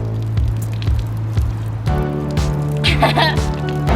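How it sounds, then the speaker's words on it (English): A public drinking fountain in Italy sprays water out fast in a close, continuous splashing rush over a low steady hum, with a few rhythmic pulses and a faint murmur of voices. "We found one of the drinking fountains. It shoots fast."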